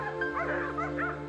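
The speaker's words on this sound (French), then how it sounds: "Je sors nos chiens les uns après les autres et je leur permets d'aller dans le parc de" Several dogs at a French boarding kennel yelp and bark excitedly, a quick, near run of high yips and whines over a steady background hum, no talking.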